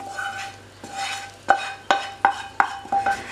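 Onions and peppers drop into a hot pan with stirring and utensil clatter, giving a series of sharp scrape and clink hits over a steady soft sizzle, close and clear with no talk.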